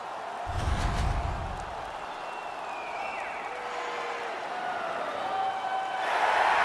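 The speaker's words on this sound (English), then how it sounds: "The home crowd was caught by surprise too. Now they're really loud in their support." A hockey arena crowd in NHL 19 keeps up a continuous, fairly distant roar of cheering that swells again near the end.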